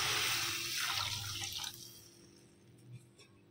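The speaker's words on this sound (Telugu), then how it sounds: "4 గ్లాసెస్ ఆఫ్ వాటర్ యాడ్ చేస్తున్నాం ఇందులో" Water pours from a glass into a pan of fried vermicelli, a splashing rush that starts strong then thins into trickles and a few drips, fairly close with no talk.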